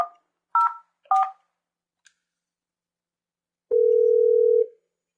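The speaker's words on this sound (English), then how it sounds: "dial the number you require" Keypad tones from a Cisco SPA desk phone as a number is dialed, two short dual-tone beeps followed by a faint tick, then a steady tone of about one second rings out clearly in an otherwise quiet room.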